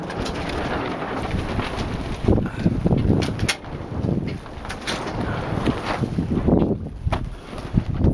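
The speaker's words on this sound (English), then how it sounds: "We're under sail, but there's just not a lot of wind." 48-foot sailboat under sail in light wind off Florida, a soft wash of water and wind rumble against the hull with some faint creaks and knocks, heard up close and without speech.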